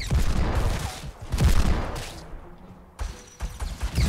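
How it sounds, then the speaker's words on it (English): Hand cannon shots ring out in a first-person shooter match as a series of loud, punchy bursts with short gaps between them. Fainter shots and game noise fill the pauses. "Someone else is shooting."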